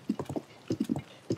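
Horse hooves clip-clop in steady groups of three or four beats with short pauses between, close and clear, in Zelda: Tears of the Kingdom on the road toward Kakariko Village; no one talks.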